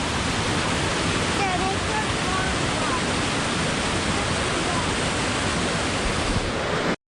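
Rushing water at a small waterfall in Spearfish Canyon in the Black Hills of South Dakota, a loud, constant broadband roar that stays steady close by before cutting off at the end.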